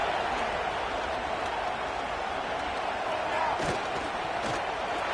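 Stadium crowd at a Michigan vs Illinois football game, a steady roar of cheering and noise held for several seconds, broad and distant-sounding, with a commentator talking over it.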